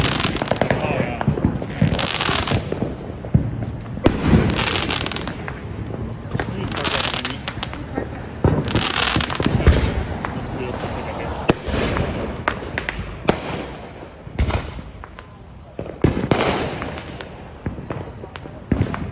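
Fourth of July fireworks crackle and bang in repeated bursts, some loud and close, others scattered and distant, with voices murmuring now and then between the blasts.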